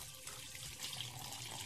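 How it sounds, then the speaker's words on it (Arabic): Water poured gradually into a homemade shower gel mixture, a steady soft splashing trickle that runs continuously, fairly faint and close, with no voices. "انا معايا لتر ونص ميه، هحط شويه"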